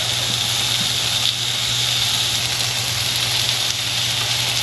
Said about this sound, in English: Listen to this sizzle when I drop this on.